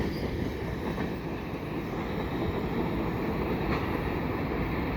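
A CPKC tanker freight train led by a CMQ GP38-2 locomotive passing at night at Dorval: a loud, steady rumble of rolling railcars with wheel noise and faint squeals, continuous and close throughout.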